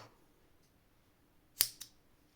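Scissors snipping through crochet yarn, one sharp close cut followed quickly by a smaller second snip in a quiet room.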